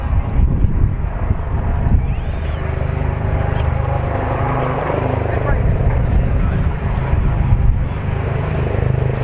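A military aircraft at the RAF Cosford Airshow roars past in a loud, sustained rush of engine noise, with a commentator's voice over a public address system and crowd noise underneath.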